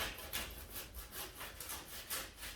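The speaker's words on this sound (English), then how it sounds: "we're going to cut it off down here, bud, all the way through in a straight line to the other side" A hand saw cuts through the base of a large carved olive bonsai, its strokes rasping steadily back and forth in a regular rhythm, close and clear with no talking.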